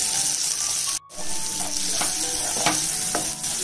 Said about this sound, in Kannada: ಎಲ್ಲ ಸೇರಿ ಒಂದು 2 ನಿಮಿಷ ಚೆನ್ನಾಗಿ ಹುರ್ಕೋಬೇಕು. ಟೊಮೆಟೊ ಸಾಫ್ಟ್ ಆಗೋವರೆಗೂ ಹುರ್ಕೋಬೇಕು.